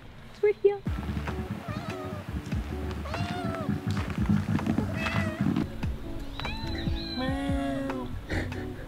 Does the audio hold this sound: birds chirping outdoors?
no